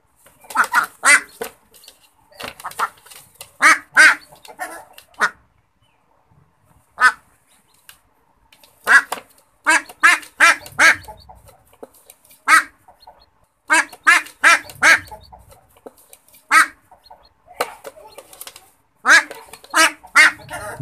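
Female white duck giving loud, repeated quacks in rapid bursts separated by short pauses, close by and fairly high-pitched, with little else in the background.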